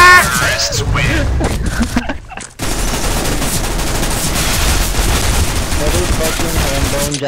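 Rapid gunfire in a video game shootout, dense bursts of automatic shots after a brief pause, loud and close, with a person speaking over the shots.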